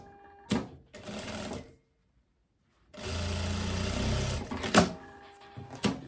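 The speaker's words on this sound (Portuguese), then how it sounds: "Faz uma costurinha no ombro." Sewing machine stitching the shoulder seam of a tailored blazer's lining: a short stitching run, then a pause of near silence, then a longer steady run followed by a few brief bursts, close and moderately loud.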